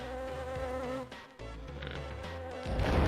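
Bees in a video game buzz loudly and continuously up close, a dense insect drone that dips briefly in the middle and then swells again toward the end, with no talking.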